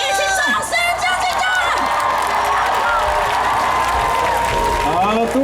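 Audience at the Amis Music Festival in Dulan, Taitung, applauding and cheering loudly for a primary school ukulele class, with sustained clapping, whoops and shrieks that continue for several seconds.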